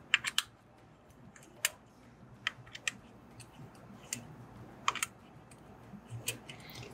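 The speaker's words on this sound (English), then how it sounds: "Simply loosen the four bolts on the cover." Sparse, sharp metallic clicks and ticks from a tool loosening the four bolts on an AUMA actuator cover, coming in irregular bursts over a low, steady background hum, with no talking.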